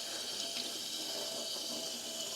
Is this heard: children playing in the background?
no